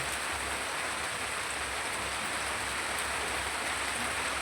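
Steady rain pours down without pause, a dense even hiss filling the whole stretch with a faint low rumble beneath and no voices.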